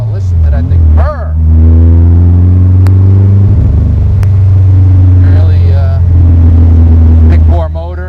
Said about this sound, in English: Oh, listen to that thing purr!